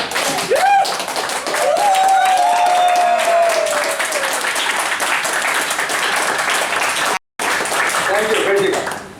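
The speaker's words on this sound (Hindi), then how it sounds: "ताली बजाने का नहीं बनता क्या?" An audience at an indoor talk breaks into sustained applause, a thick wall of clapping that carries on for several seconds, briefly cuts out, then resumes, with voices and a cheer-like call rising over it.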